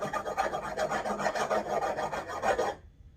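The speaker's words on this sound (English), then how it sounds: "And then I'll do some filing on the inside to get that jagged kind of nature." A small file rasps inside a guitar slide in quick, close, gritty strokes, repeated rhythmically for a few seconds before stopping abruptly.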